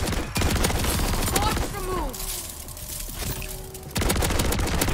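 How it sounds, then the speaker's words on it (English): A shotgun fires at zombies in the game MW3 Zombies: dense bursts of loud gunfire and impacts, a short lull with tonal game sounds, then heavy firing resumes, close and loud. "let's see how the shotgun does with him."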